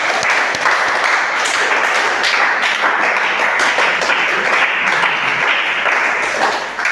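An audience in a classroom session gives a sustained round of applause, dense, loud clapping from many hands that continues steadily for several seconds before tapering slightly at the end.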